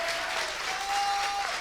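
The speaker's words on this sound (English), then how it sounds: "big round of applause, our champion today" Audience applause at the KLASK World Championship final, a short steady burst of clapping from a modest crowd, with a faint tone running beneath it.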